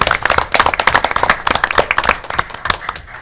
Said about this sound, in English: the very least we can do is give them a round of applause for them